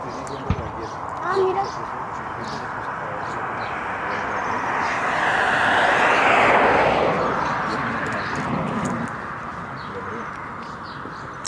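A Ryanair airliner on a domestic arrival from Seville at Barcelona airport, a jet roar swelling in the middle of the clip and fading, heard amid ambient outdoor noise and bird sounds.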